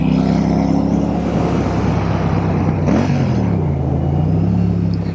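A Royal Enfield Shotgun motorcycle fitted with AEW exhaust pipes rumbles steadily and loud while riding, with its engine note dipping and rising once partway through. No one talks.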